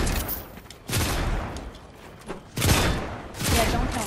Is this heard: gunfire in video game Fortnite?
yes